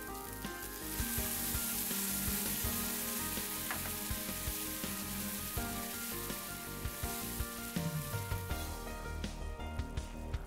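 Seasoning sauce sizzles and crackles steadily in a frying pan with minced meat for Japanese sweet and spicy Jaa-Jaa men, a continuous bright hiss with occasional stirring clatter, close and alone.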